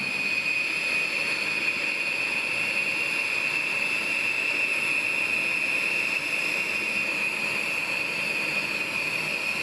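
B-1 bomber jet engines from a two-ship of aircraft being delivered to the AMARC boneyard, a loud, continuous roar with a steady high-pitched whine running throughout and no talk.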